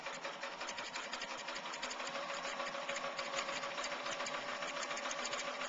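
A sewing machine runs steadily, stitching along a ribbon through several quilted layers of a heart-shaped needlecase, giving a continuous close, even mechanical whir.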